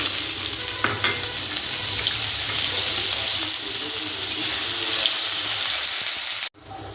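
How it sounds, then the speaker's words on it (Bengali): Chopped onion frying in oil in a pan where fish was fried, a loud dense sizzle that runs steadily for several seconds and then cuts off sharply near the end. "এবার দিয়ে দেবো পেঁয়াজ কুচি"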